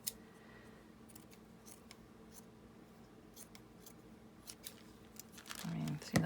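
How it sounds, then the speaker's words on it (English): Fabric scissors snip through scrap fabric in a few quiet, separate cuts, near and faint, with fabric rustling toward the end. "need my fabric scissors for this"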